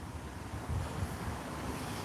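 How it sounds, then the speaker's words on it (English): Steady, fairly loud wind buffets the microphone beside a canal lock below the Chester city walls, a continuous broadband rush with a slight swell in the middle and no voices. "It might be a bit windy"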